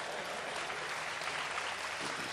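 Audience at a kavi sammelan keeps clapping, a dense, steady burst of applause filling the whole stretch at even loudness with no voice breaking through.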